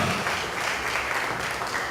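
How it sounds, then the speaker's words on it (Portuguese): A church congregation gives a brief burst of applause, a dense wash of clapping filling the room for a couple of seconds. "um aplauso"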